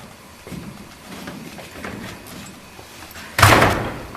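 A door is shut on a stage during a theatre play, one loud solid thump near the end after a stretch of quiet room noise and faint movement.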